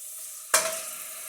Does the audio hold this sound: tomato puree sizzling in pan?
yes